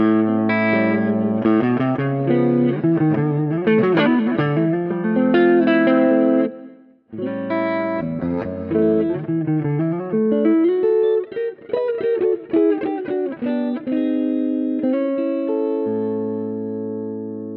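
Electric guitar played through a Roland JC-120 amp plugin with vibrato on channel 2, clean sustained chords and melodic lines with a gentle wavering shimmer, a short pause midway, then ringing notes fading out.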